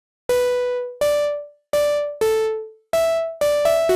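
Bright synth pluck built in Serum with a filter envelope, a trance-style Anjunabeats pluck: six or seven sharp notes at a moderate pace, each fading quickly with a decaying filter sweep, played alone with no voices.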